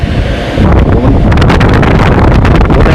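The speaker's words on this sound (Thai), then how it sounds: "เป็นพัดลมแรงมากเลย" A powerful ventilation fan blows air inside a market, giving a steady loud roaring rush of wind buffeting close to the microphone with no talking.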